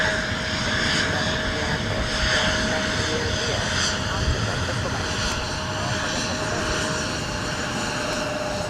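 Airbus A321neo jet engines drone steadily at MSP airport in winter, a loud continuous roar with a faint whine threaded through it, holding even across the whole stretch.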